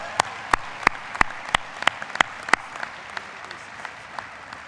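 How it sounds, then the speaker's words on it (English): Graduation ceremony audience at a 2013 Texas A&M commencement applauding faculty and staff: a handful of sharp, spaced claps ring out over a soft crowd wash, then the clapping thins and fades. "please give the faculty and staff a round of applause for the commitments they have made towards your education"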